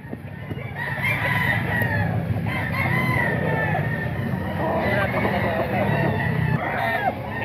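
Roosters and fowl at a Filipino gamecock market at Grotto, crowing and clucking in a dense, steady jumble over constant crowd chatter and background noise.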